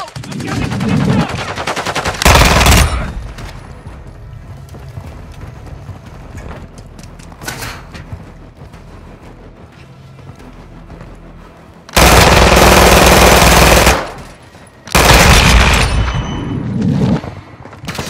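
Video game gunfire in Call of Duty: Modern Warfare II, with a few loud bursts of rapid shots and blasts separated by quieter battlefield stretches.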